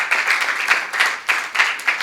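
Applause from an audience at a scholarship award ceremony in Kinshasa, heard as short uneven bursts of clapping for a speaker, moderately close with no clear voices.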